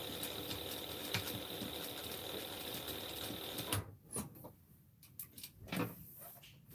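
Sewing machine running along the edge of clothing labels during a McCall's 7974 sew-along, a steady near hum for the first few seconds, then stopping into quieter room noise with short bumps and clatter.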